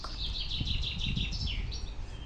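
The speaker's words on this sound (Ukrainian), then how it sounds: "Так гарно пташечка співає. Оця над нами." Small songbird singing overhead beside Lake Basiv Kut, a steady run of bright, quick chirps and warbled notes lasting a couple of seconds over soft outdoor background hiss.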